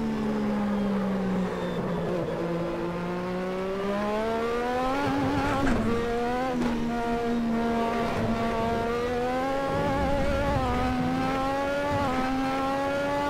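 A Lotus 98T race car engine at Spa-Francorchamps in the Assetto Corsa video game, screaming loudly and close, pitch climbing under throttle then dropping on lifts and shifts, with brief tire squeals, continuous and without talk.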